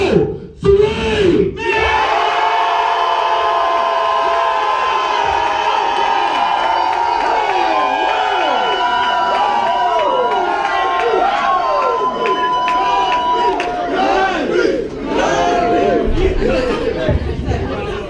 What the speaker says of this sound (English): you're going to make as much motherfucking noise as you can